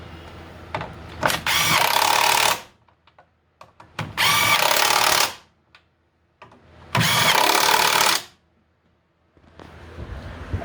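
A power tool tightens nuts during a suspension upgrade on a pre-Eagle 5.7 Hemi Charger. It gives three loud, close bursts of whirring and rattling lasting one to two seconds each, separated by brief quiet gaps with small clanks.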